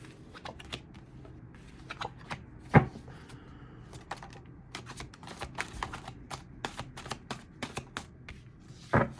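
A deck of tarot cards is shuffled by hand in quiet, close riffles and clicks, with rapid irregular card snaps and a couple of sharper knocks.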